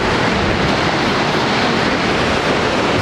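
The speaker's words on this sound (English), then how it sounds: "We're at the waterfall." A waterfall on Iceland's Golden Circle roars as a loud, steady wash of falling water, broad and constant with a little wind buffeting, no voices over it.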